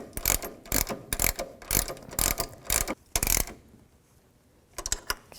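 A ratcheting wrench tightens a nut on a Jeep Cherokee front track bar, rapid bursts of close metallic clicking in several quick runs, a pause, then a short final burst.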